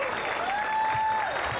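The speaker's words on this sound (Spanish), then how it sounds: "Así que el aplauso para todos ellos." An audience at a school gala applauds the musicians, a dense, continuous wash of clapping with a faint tone sounding above it.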